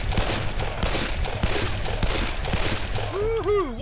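Pistol gunfire in the video game Darkest of Days crackles in a rapid run of loud, closely spaced shots, ending with a warbling tonal effect after the shooting.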